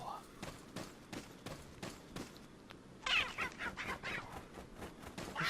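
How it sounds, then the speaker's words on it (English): Chickens cluck in Resident Evil 4, a run of short clucks and fowl calls over a game soundscape, growing busier and louder partway through, with someone talking over them. "This chicken never drops many eggs."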